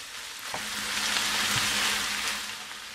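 Minced meat fries in a pan with a continuous close hiss and sizzle, punctuated by a couple of soft knocks as a spatula stirs it.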